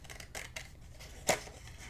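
Paper being cut with scissors for a handmade mini album: a single crisp snip stands out, with a few fainter cutting sounds earlier, close by and alone.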